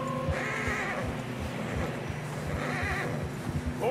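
A horse whinnies twice in quick succession in Red Dead Redemption 2, fairly close, struggling through deep fresh snow, with a low rumbling background and faint hoof or movement sounds.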